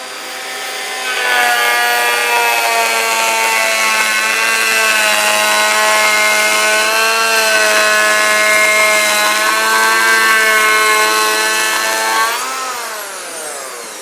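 A Festool EHL 65 EQ electric planer cuts a 2mm pass along wood, a loud steady whining hum that spins up, holds for about ten seconds, then winds down, with no talk.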